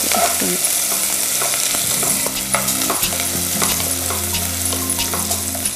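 Chopped onions frying in a pan with cashews, a loud continuous sizzle and crackle close up, with a steady low hum underneath and no talking.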